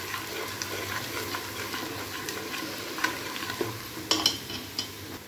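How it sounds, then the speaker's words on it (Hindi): Onions frying in a pan with a spoonful of ginger-garlic paste, stirred with a spoon: continuous close sizzling under repeated scraping and clinking strokes, with sharper clacks toward the end. "मैं इसमें अदरक लहसुन का की पेस्ट का 1 चम्मच डाल देती हूँ। अब इसको अच्छी तरह से ना भुनाई करूँगी इसकी।"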